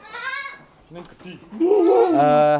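A farm goat kept by breeders bleats in two clear, close, loud calls, a short one at the start and a longer, wavering one at the end, with quieter sounds between.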